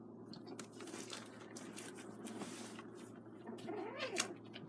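Kittens Oreo and Luna play-fighting, quiet scuffling and soft rustling with brief cat vocalizations and a short rising meow-like squeal near the end, close but faint.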